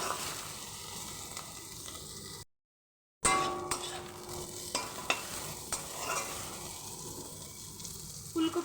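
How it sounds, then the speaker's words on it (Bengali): Cauliflower frying with salt and turmeric, a steady close sizzle with spoon scrapes and clinks as it is stirred, broken by a brief silent gap before the frying and stirring resume. "লবণ এবং হলুদ দিয়ে খুব ভালো করে ফুলকপিটাকে লাল লাল করে ভেজে নেব"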